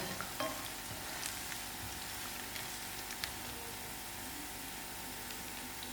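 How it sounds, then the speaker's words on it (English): Dry chilies, mustard seeds and cumin frying in oil in a pot, a soft continuous sizzle with a few faint pops and clinks, fairly quiet throughout. "I'll allow it to fry a little bit more and then add it to my kitchari"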